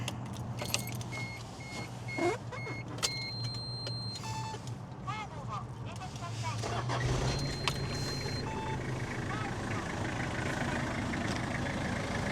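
A 2001 Toyota Camroad motorhome with a fully mechanical 5L 3-liter diesel: keys jangle and electronic chimes sound, then the engine cranks and settles into a steady, close idle rumble that continues to the end.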